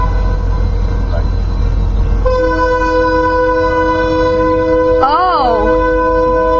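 A BNSF freight train sounds its horn at the McLeroy Blvd railroad crossing, a loud sustained multi-tone blast with an odd warbling, wavering sweep midway, over steady rumble and background voices.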